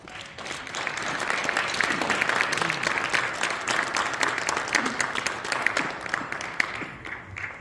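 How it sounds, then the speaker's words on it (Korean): Audience at a church new year gathering and special prayer meeting breaks into sustained, dense applause that swells quickly, holds steady, then tapers off near the end. "우리 인사하실 때 박수 한번 하시겠습니다."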